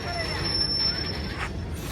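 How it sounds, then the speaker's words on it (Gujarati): An arriving train gives a thin, sustained wheel squeal over a low, steady rumble, heard from a moderate distance in open air. "ટ્રેન પણ આવી ગઈ છે"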